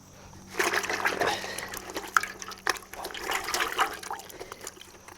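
Gloves are rinsed in a bucket of water during an indigo and urine cloth dyeing session, giving soft, close sloshing and trickling splashes in uneven bursts against a quiet room.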